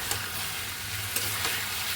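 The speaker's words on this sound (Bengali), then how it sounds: "একটু ভালো করে কষিয়ে নেব" Vegetables including bitter gourd, eggplant and lentil dumplings sautéed with spices in a pan, a steady sizzle with brief scraping stirs and light clicks of the spatula.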